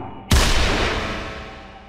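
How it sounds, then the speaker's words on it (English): A single revolver gunshot cracks out suddenly after a brief quiet moment, a loud close boom whose echo decays slowly over the following second and a half, heard alone. "As the scene cuts to black with the sound of a gunshot"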